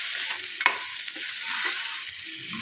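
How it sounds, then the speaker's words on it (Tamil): Roasted peanuts and other ingredients for apple chutney sauté in a hot pan, giving a steady bright sizzle with occasional scraping stirs, close and continuous with no talk. "இது எல்லாத்தையும் நல்லா வதக்கிடணும்"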